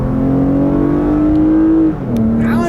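A 2018 Lexus RX 350 F-Sport AWD accelerating in Sport Plus mode on a back road, heard from inside the cabin: a loud steady engine drone rising slightly in pitch, then a brief dip as it shifts gear before pulling on.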